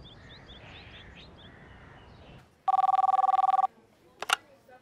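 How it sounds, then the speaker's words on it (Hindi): A telephone rings in a loud, steady electronic trill for about a second, cutting off abruptly, followed by a short clack as the handset is handled. Faint birdsong and room ambience precede it. "चंदना बीबी, आपकी कॉल, फोन बज रहा था लेकिन अब बंद हो चुका है।"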